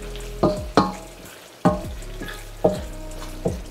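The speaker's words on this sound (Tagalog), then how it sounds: "Haluin nyo lang ng konti." A utensil stirs Filipino-style spaghetti ingredients in a frying pan, giving five or six distinct scraping clanks in an irregular rhythm over a soft, steady sizzle.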